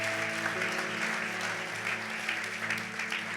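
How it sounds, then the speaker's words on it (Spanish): Applause from a church congregation during a service, a steady dense clapping that holds throughout at moderate distance with a faint organ-like tone beneath. "un fuerte aplauso también para mi madre"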